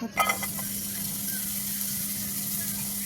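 Onions and chilies sizzle in a small amount of oil in a kadai, a steady soft frying hiss after a brief clatter at the start, close and fairly quiet, with no voices.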